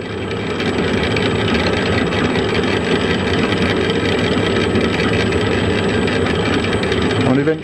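A gear pair spins on a test rig as oil is applied, giving a steady close mechanical whirr and rumble that holds at an even level throughout, with no talk over it.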